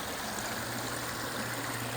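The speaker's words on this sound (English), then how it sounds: "this is a 13-foot long pondless waterfall" A 13-foot-long pondless waterfall in a Simi Valley garden, surrounded by drought-tolerant native plants, pours a soft, continuous stream of water with a faint pump hum beneath, steady and unbroken.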